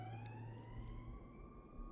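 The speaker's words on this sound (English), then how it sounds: "sirens or something in the background" Sirens wail faintly in the distance behind steady outdoor background noise, their tones slowly rising.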